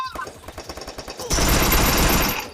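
Gunfire in Free Fire, a rapid string of automatic shots followed by a dense, loud burst of continuous firing that fades at the end.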